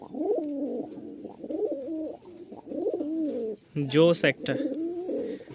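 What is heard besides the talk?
Giribaz tumbler pigeon cooing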